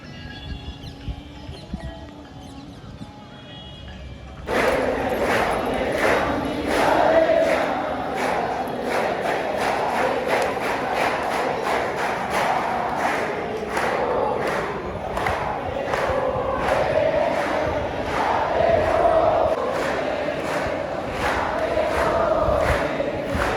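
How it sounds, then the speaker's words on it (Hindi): Evening crowd gathered at a temple in Bharatpur, a dense, continuous murmur of many voices punctuated by regular sharp beats, starting abruptly after a quieter opening. "हर शाम को यहाँ कितना ही क्राउड रहता है,"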